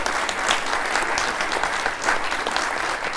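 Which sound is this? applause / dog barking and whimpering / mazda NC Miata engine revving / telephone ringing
applause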